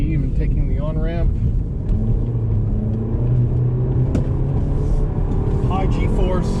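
A car takes a highway on-ramp, its engine a steady low rumble that rises under acceleration, with someone talking over it throughout.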